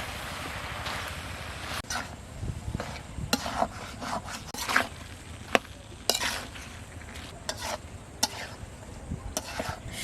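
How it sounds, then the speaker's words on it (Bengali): Spinach with red lentils (masoor dal) and spices is stir-fried in a pan, a soft, nearby crackle and sizzle punctuated by irregular scraping strokes of a spatula. "পালং শাক দিয়ে আবার ডালের সাথে ভালো করে একটু কষিয়ে নেব"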